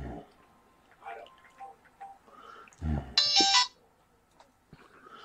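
A short burst of electronic ringing, a phone's ring tone, cuts in briefly after a loud thump amid quiet room noise and scattered voices.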